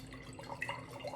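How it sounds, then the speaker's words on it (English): Water runs into a glass jar in a steady, soft trickle with faint dripping and splashing, close by and fairly quiet, with no voices. "So the first thing I'm gonna do is I'm gonna fill my glass jar."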